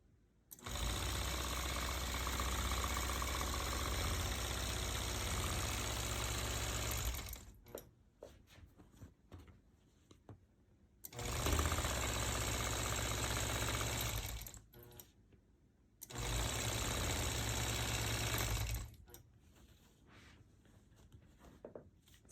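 A longarm quilting machine stitches a disappearing nine-patch quilt in three bursts of fast, steady mechanical whirring and rapid needle chatter. Each burst is separated by quiet pauses with faint handling sounds.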